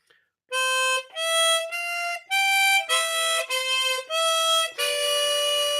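Harmonica plays a melodic phrase of about eight sustained notes by blowing and drawing individual holes, bright and reedy, close and loud, each note held briefly with small breaks between.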